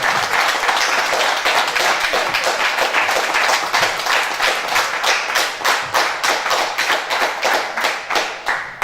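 Audience applause at a live music show, a dense wash of many hands clapping that grows into a sharper, rhythmic unison clap in the second half, loud and close with no talk over it.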